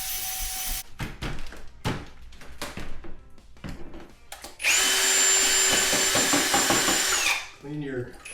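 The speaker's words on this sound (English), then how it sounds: "Put your drill on low. If you have a bigger drywall mixing bit, you can use that." A power drill set on low spins a grout mixing bit through drywall mud, heard first as scattered clunks and short bursts, then a loud steady whir for about three seconds before winding down.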